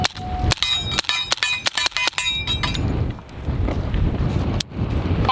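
A rapid string of sharp, muffled gunshots from a suppressed LWRC SMG45 carbine cracks out in quick succession, then a pause filled with wind rumble and one more shot near the end.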